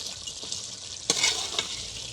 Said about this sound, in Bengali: ঢাকনাটা উঁচু করে আমরা একটু পরপর নেড়ে দিব।